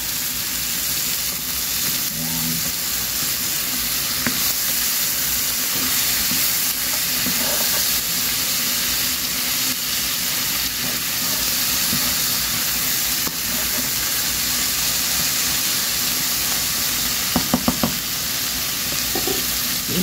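Bok choy sizzles and steams in a hot pan for an egg and pechay dish, a steady, close, dense frying hiss with scattered stirring clicks and no talking.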